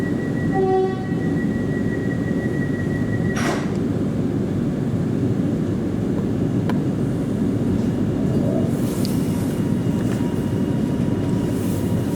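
Steady loud rumble of an HCMT electric train running under motor power, a continuous drone with a brief horn-like tone near the start and a sharp click midway.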